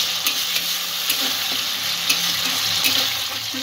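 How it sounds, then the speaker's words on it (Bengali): Yogurt being stirred into spices in a hot pan for a chaal potol dish: a steady sizzling hiss with repeated soft scraping strokes of a spoon, close and continuous, no talking. "সমস্ত মশলার সঙ্গে দইটাকে মিক্স করে নেব।"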